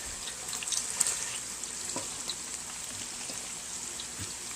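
French fries are dropped into hot frying oil and give a steady, close, crackling sizzle with scattered pops, even in level throughout and heard alone without voices.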